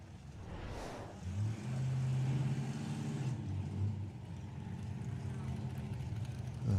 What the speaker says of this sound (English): Keith Freeman and Andy Park do their burnouts